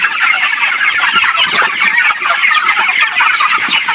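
Dense, continuous chatter of many broiler chickens crowded inside a poultry farm house, a loud steady mass of clucks and peeps close by with no pauses.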